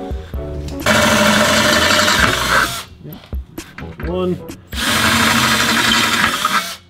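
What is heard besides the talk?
power drill drilling out holes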